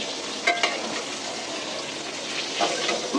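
Fish frying in a generous amount of oil, a steady close sizzle with a few clinks and scrapes of utensils, no voices.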